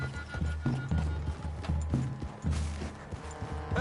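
Horses' hooves clip-clop at a steady walking rhythm in the Red Dead video game, close and fairly loud over a low ambient outdoor bed, with a faint creak in places.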